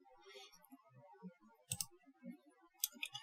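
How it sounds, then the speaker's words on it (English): Two sharp mouse clicks land about a second apart, faint and close, with a few softer taps and small clicks scattered around them in an otherwise quiet room. "Let's click apply and I click OK"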